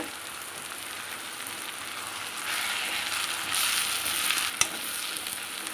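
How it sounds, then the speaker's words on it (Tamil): Masala with chili powder sautéing in a pan, a steady hissing sizzle that swells midway, with one sharp utensil knock near the end, close and moderate with no talking. "இப்போ இதை நல்லா வதக்கிக்கணுங்க"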